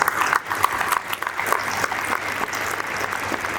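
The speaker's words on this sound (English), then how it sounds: "Let us give her a huge round of applause" Steady audience applause fills a school investiture ceremony hall, a dense, even patter of many hands clapping at moderate loudness with no voices over it.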